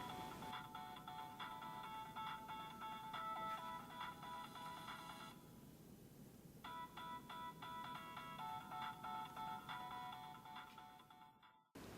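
A phone ringtone sounding inside a partly evacuated bell jar, faint and muffled, in two long bursts of repeated electronic trills separated by a brief pause.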